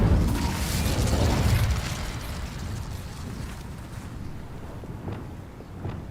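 A fire spell cast in the game Hogwarts Legacy: a rumbling, roaring whoosh swells over the first couple of seconds and fades, followed by lighter scattered pops and thuds, all without any talk.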